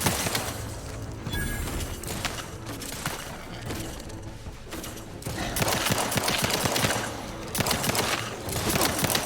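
Gunfire in The Outer Worlds 2, rendered as sustained bursts of rapid shots that roll on through the whole stretch, loud and close, surging in denser volleys toward the end.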